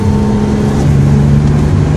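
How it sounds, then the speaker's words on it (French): A Renault EOLAB hybrid's combustion engine runs steadily nearby, a loud continuous drone with a faint rising tone, no talking. "le moteur thermique, il est en route"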